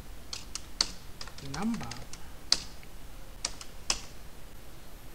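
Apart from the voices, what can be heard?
typing on computer keyboard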